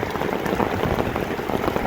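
Rain falls steadily in Vientiane, Laos, a dense even patter on surfaces with no breaks or voices.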